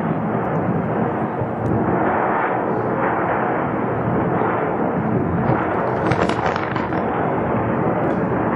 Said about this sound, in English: some beautiful explosions taking place